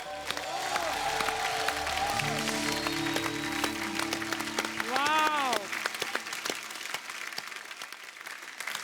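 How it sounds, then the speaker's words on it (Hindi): A television studio audience applauds and cheers for guests after a song on a comedy talk show, a broad wash of clapping under lingering musical tones and a voice speaking over it. "खुल के तालियां हो जाए हमारे आज के सारे मेहमानों के लिए।"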